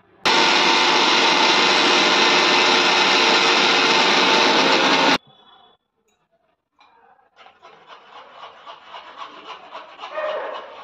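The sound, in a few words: mixer grinder blending sliced mango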